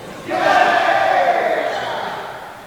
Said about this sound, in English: The crowd is into this, Alphonse.